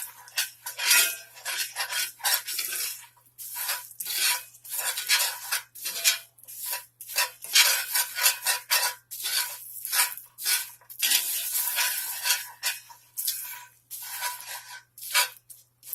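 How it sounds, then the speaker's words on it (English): A spoon stirs sugar into a sweet potato mixture in a pan, giving repeated scraping and clinking strokes in uneven bursts, close and fairly loud, with a faint low hum beneath. "let's go ahead and add some sugar to that mixture there. Stir that around."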